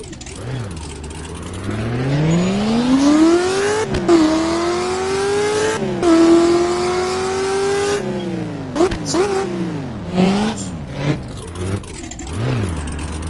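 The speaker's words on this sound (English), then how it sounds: "I really want to go this for real because that car sounds crazy" A video game car engine revs hard, its pitch climbing and dropping through several throttle bursts with brief gear-shift dips, loud and close, carrying on for the whole stretch.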